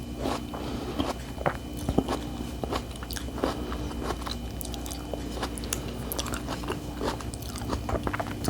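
Someone eats apple streusel pie topped with ice cream, with soft, irregular bites and chewing close by, quiet and steady with no talking.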